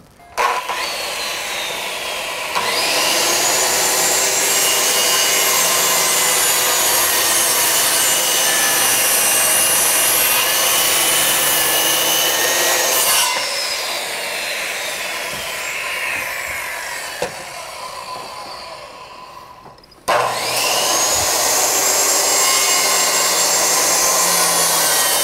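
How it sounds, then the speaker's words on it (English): A power jigsaw cuts through deck boards to finish off cuts, buzzing loud and close in long continuous runs, with a brief pause and a pitch shift partway through before starting again. "I gotta come back with a jigsaw just to finish off the cuts"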